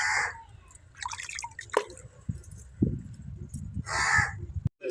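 Vegetables bought at a market are rinsed by hand in water outdoors, with close dripping, splashing and sloshing, while crows caw in the background.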